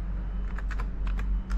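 Rapid, irregular clicking of keys on a laptop keyboard, a close flurry of light taps over a steady low background hum, no voices.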